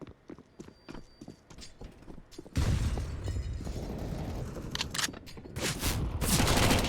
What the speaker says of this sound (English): We saw those hand cannons make a big noise.